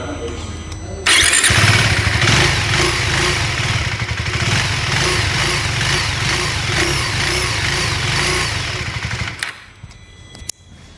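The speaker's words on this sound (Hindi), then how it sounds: "अब ड्यूक 390 की आवाज़ सुनवा देते हैं आपको।" A KTM Duke 390 motorcycle engine cranks and fires up close by, then settles into a loud, bassy, steady idle for several seconds before cutting off abruptly, with no talk.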